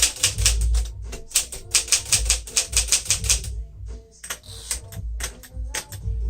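A 1957 Silent-Super typewriter clacks in quick, uneven bursts of keystrokes, close and loud, with short pauses and a carriage-like shift near the middle.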